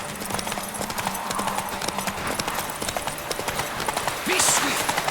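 Horse hooves galloping in the video game The Witcher 3, a steady rapid clip-clop rhythm throughout at moderate loudness, with a brief whinny near the end and a voice urging the horse on.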